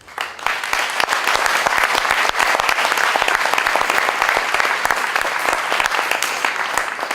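Loud, dense applause from an audience at an opening ceremony in Villejuif, sustained steady clapping filling the room for several seconds without a break.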